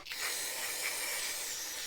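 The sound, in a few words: spraying carburetor cleaner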